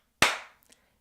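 A single sharp hand clap on a video's audio track, loud and close with a short ringing decay, followed by a couple of tiny faint clicks.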